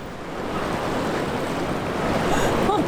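Ocean surf rolls onto a beach in France, a steady broad wash of breaking waves with some wind noise, continuous and fairly loud with no voices.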